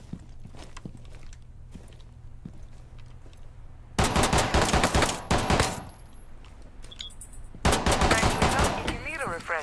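Video game gunfire in a window-shooting sequence: scattered quieter shots, then two loud bursts of rapid fire, with faint thumps between them.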